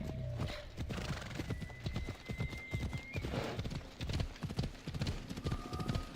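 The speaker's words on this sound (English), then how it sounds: "Go on, little horsey." A horse in the video game Assassin's Creed Odyssey gallops with a rapid, steady clip-clop of hooves and gives a couple of neighs, heard over a continuous game soundscape, moderately loud and with no talk.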